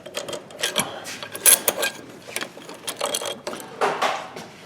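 A ratchet backs off the e-brake bolt on an AMC 20 axle from a Javelin, giving a rapid, uneven run of clicking pawl strokes close up, with metallic clinks throughout.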